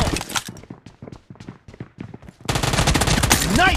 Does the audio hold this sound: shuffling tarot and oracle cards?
no